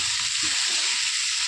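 Avarekai palya, a field bean stir-fry, sizzles steadily in a pan while being stirred, a continuous close frying hiss with faint scraping underneath.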